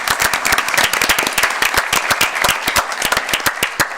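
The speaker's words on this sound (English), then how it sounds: "we can give them applause" Audience applause at a town council meeting, dense sustained clapping from many hands in a room, loud and close, with no talk.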